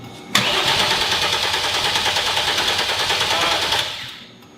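A turbocharged generator engine cranks with a loud, rapid rhythmic churning for several seconds, then cuts off and fades, heard close with no talking.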